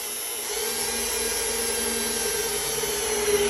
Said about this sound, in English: We're just gonna go through and drill each hole.